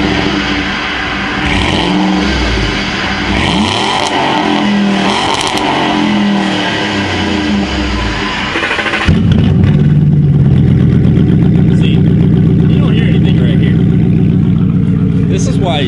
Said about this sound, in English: you wanna hear the sound of freedom and big American V8 motors